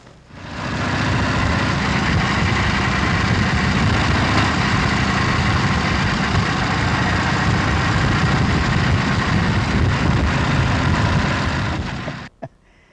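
An old Indian motorcycle engine idles steadily and loudly for about twelve seconds, then cuts off abruptly, with no talking over it.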